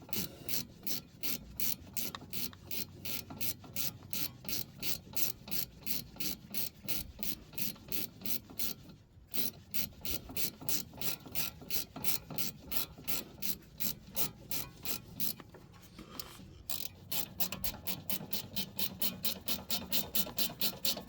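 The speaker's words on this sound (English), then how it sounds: "Grab your 9/16 wrench. Make sure you're going the right damn way. And you just snug them up." A hand wrench snugging up fine-thread bolts, giving a long, steady run of quick rhythmic ratcheting clicks close by, with a few brief pauses.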